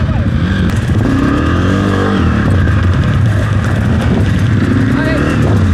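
Dirt bike engine revving hard and loud during wheelie practice, a continuous close roar with rising and falling revs and clattering mechanical noise throughout.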